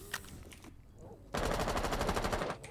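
Automatic gunfire from a tactical shooter match during a competitive tournament, a sudden loud sustained burst of rapid rattling shots lasting over a second after quieter game ambience.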